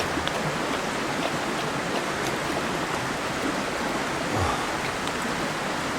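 A flooded river in Kentucky's Red River Gorge rushes in a dense, unbroken roar, steady and fairly loud with no pauses.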